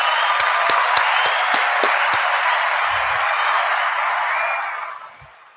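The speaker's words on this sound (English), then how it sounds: "Give him another round of applause" Studio audience applause at a live podcast interview, a steady wash of many hands clapping with a few sharp close claps up front, sustained for several seconds before fading out near the end.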